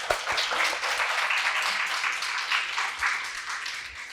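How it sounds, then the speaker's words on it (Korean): An audience at a film talk event in Korea applauds continuously, many hands clapping in a dense, steady wash that fades slightly toward the end. "큰 박수로 환영해 주세요."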